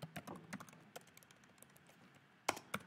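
Computer keyboard typing in short irregular keystroke bursts, fairly close and moderate in level, with a pair of sharper louder clicks near the end and no talking.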